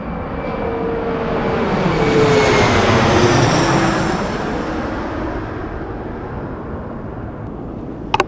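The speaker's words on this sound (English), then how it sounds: "I do believe a plane's gonna fly over my head in just a minute." A jet airplane roars overhead near Raleigh-Durham airport, swelling loud to a peak and then slowly fading as it passes, with a brief knock at the end.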